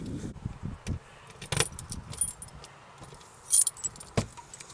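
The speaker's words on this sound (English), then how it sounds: "Hang the keys up here on the trim wheel." Keys for a Super Stinson 108-1 light airplane jangle and clink as they are handled and hung on the trim wheel, a series of close, irregular metallic rattles and taps with brief pauses between them.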